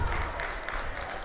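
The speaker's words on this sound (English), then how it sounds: "Very vocal Polecats crowd in the behind me." A rugby crowd at a 2019 first-grade grand final between the Polecats and Wanderers clapping steadily, giving a brief, dense burst of applause from a small crowd with no break.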